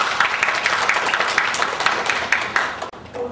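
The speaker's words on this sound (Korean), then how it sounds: "다시 한번 큰 박수 부탁드립니다" Applause from a seated audience at a corporate social responsibility forum on long-lived companies, steady dense clapping for about three seconds that ends abruptly, moderately loud and heard from inside the room.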